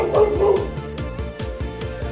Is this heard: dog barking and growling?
yes